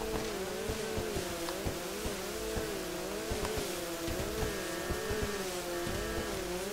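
A jet ski engine in GTA 5 drones steadily with a wavering, warbling tone as it runs across water, moderately loud and continuous with small rhythmic pitch swells.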